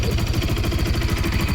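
A car engine makes a fast, steady rattling knock, a close, continuous metallic pulsing with no pauses over a brief stretch.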